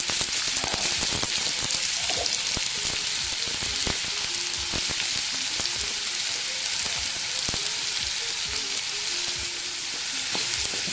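Four finely chopped onions sizzling in a hot pan for pepper chicken, a steady loud frying hiss broken by sharp stirring scrapes and clicks, with no talk.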